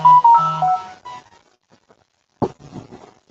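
A tethered phone sitting nearby gives off a short burst of electronic tones and beeps, then falls quiet before a brief thump and faint clatter.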